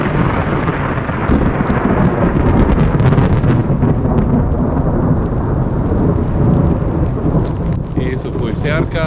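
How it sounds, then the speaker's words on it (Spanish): Loud, close thunder rolls and rumbles over a constant downpour of heavy rain in the Atacama Desert, Chile, filling the whole stretch with a dense roar. "uno de los pocos momentos de la lluvia aquí en Atacama, con tormenta eléctrica"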